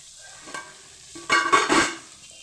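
Vegetables and capsicum being lightly fried in a pan, heard as a soft sizzle with a few brief scraping stirs, the loudest cluster coming in the second half.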